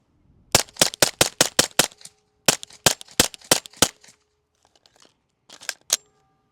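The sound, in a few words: suppressed Glock 17 pistol shots with B&T suppressor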